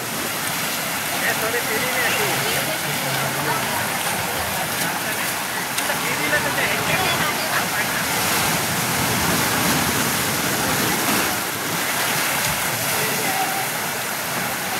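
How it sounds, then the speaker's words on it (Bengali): A powerful waterfall roars continuously and loudly, a dense, steady rush of falling water that fills the scene without pause. "জলের ফোর্স কিন্তু প্রচুর।"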